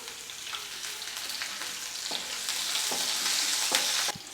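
Curry leaves and chopped green chili fry in hot oil, giving a steady, close sizzle with occasional stirring scrapes throughout.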